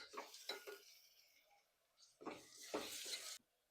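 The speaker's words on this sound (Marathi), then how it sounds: "टोमॅटो छान परतले गेले" Tomatoes and dried bombil fish being sautéed give quiet, intermittent bursts of scraping and stirring with faint sizzle, a spoon clinking against the pan in two short clusters separated by a pause.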